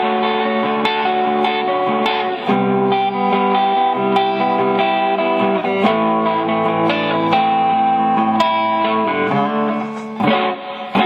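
Electric guitar played through a Mace amp on a clean channel with added reverb, ringing chords and single notes sustaining into a wash of echo, loud and close with no voice.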